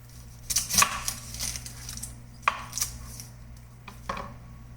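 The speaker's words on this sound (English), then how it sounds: "While the potatoes are boiling, chop some onions." A knife chopping onions on a cutting board, a few irregular crisp strikes close by over a low steady hum.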